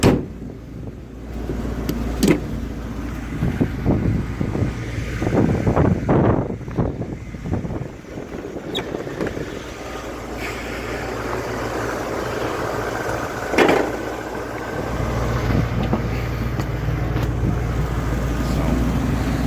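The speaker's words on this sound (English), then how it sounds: "I'll show you the engine running." International big block quad cab 4x4 pickup with a Holley 650 carburetor idles with a steady low rumble; a few close knocks and handling noises come early before the engine drone settles.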